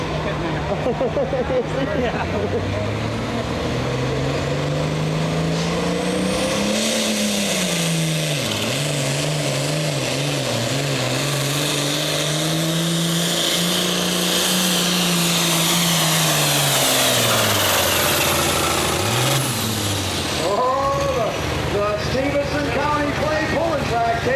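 A 9,300-pound super tractor pulls at a summer nationals tractor pull, its engine roaring loud and sustained, with pitch rising and dipping through the run before cutting out. An announcer talks over it.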